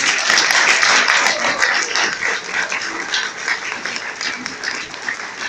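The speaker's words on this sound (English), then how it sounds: "get a quick round of applause for everybody" Applause sweeps through the audience at a cosplay contest after the last entrant. It is loud and dense at first and then slowly thins, with a dog-like yelp or cheer breaking through.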